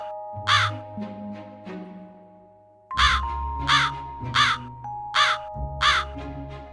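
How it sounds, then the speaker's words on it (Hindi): A flock of crows caws loudly and close by in quick clusters of harsh calls, two bursts of several caws each, over a soft sustained musical background. "जब वो झुंड के कौवे काव काव करते हुए खाते"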